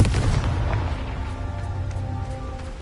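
A Confringo fire spell explodes in the Hogwarts Legacy video game, a loud booming burst at the start that rumbles and fades across the clip, with no talk.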